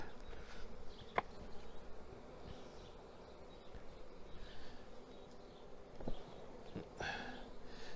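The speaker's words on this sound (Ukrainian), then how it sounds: "Струшуємо всі рамки, а потім прямо з ящиками струсимо бджілок" Honeybees being shaken off hive frames by a beekeeper, giving a faint, steady swarm buzz with a few soft knocks and thumps of frames and boxes nearby.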